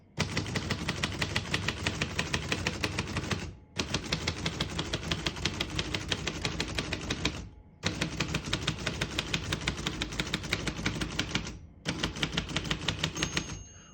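Rapid, even keystrokes on a 1948 Royal Quiet De Luxe manual portable typewriter, fast and close, typed in four long bursts separated by short pauses, each strike crisp and clacking, with no talking.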